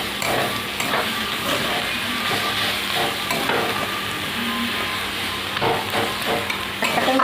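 Cooked greens with peeled peanuts and a little sugar stirred in a sizzling pan, a dense close frying hiss with irregular scraping and clattering strokes, no voices.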